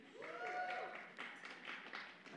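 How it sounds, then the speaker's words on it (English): Audience clapping in a church during a sermon, a moderate scattered round of applause that rises and then thins out, with a voice speaking over it partway through. "Y'all clap for Chick-fil-A."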